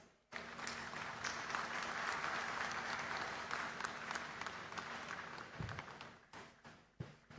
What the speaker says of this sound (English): with a warm round of applause, please